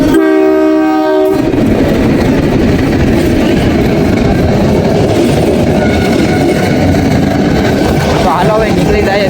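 A passenger train pulls into a station on a journey toward Junagadh in Gujarat, opening with a loud, near horn blast, then a steady heavy rumble and clatter of wagons rolling past, with voices talking underneath.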